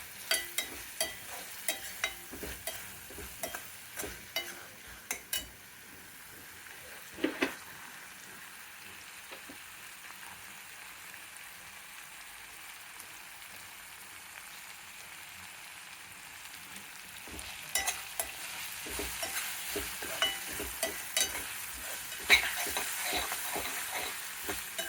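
Bitter gourd masala with tomato, coriander, salt, chilli and garam masala fries in a thick steel pot, a soft steady sizzle broken by scattered scraping clatters as it is stirred, busier near the start and end.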